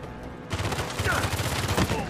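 Rapid bursts of pistol gunfire in Uncharted 4 rattle out over a noisy background, the shots coming in quick succession for about two seconds.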